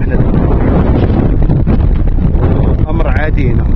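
Strong wind buffets the microphone outdoors near the Kasbah of Aït-Ben-Haddou by Ouarzazate, a loud continuous roar with someone talking underneath it.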